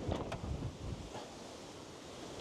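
Strong storm wind buffets a campsite at La Manga, a loud steady roar with gusty rumbling bursts near the microphone throughout, and no voices.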